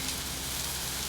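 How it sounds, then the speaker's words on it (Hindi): Steady rain pours down in a dense, even hiss, close and fairly loud, with no talk over it. "तुम्हारी वजह से बारिश में फंस गए।"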